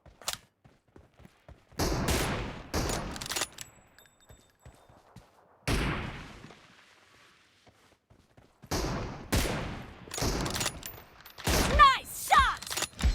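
Gunfire in the mobile battle game PUBG Mobile, team deathmatch: bursts of rapid automatic shots and single cracks come in several loud clusters separated by quieter gaps with faint mechanical clicks and footsteps.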